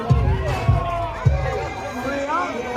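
A crowd cheers in a played recording, with distant roaring and whooping alongside a few sharp thumps near the start, the noise holding steady under a babble of voices throughout.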